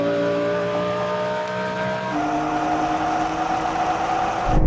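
BMW M3 and Audi R8 GT in a drag race, steady loud engine roar with harmonic tones holding, then a gear shift shifting the pitch, and a sharp rise at the end.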